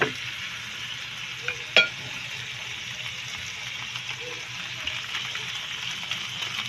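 Squid sautéed with fried tofu being stirred in a pan, giving a steady low sizzle with a couple of brief utensil clinks near the start.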